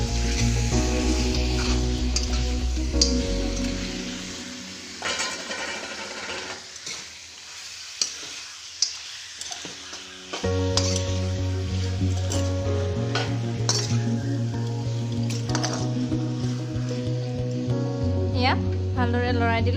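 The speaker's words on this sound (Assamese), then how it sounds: "ভালদৰে লৰাই দিম।" Chicken meat being stirred in a pan with fried onions and spices for a local chicken dish, a steady sizzle and scraping stir with music playing over it throughout.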